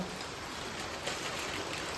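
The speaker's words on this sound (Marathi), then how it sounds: "पाऊस पण लय जोरात चालू आहे" Heavy rain falls steadily in a rural village, a dense, even hiss of downpour with no pauses or voices over the whole stretch.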